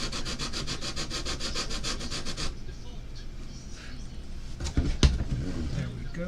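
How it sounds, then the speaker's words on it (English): A handheld sanding tool works over a small diorama piece for a toy store scene, giving a steady, close rasping buzz for a couple of seconds before it stops and a few scattered handling knocks follow. "Let's get my handy dandy sanding tool."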